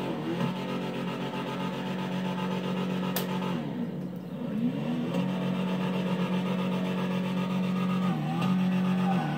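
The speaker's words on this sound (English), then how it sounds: "I'm going to rev it up for you guys." A car engine in the game GTA revs up, a steady loud mechanical drone with a brief dip midway before climbing again, heard alone without talk.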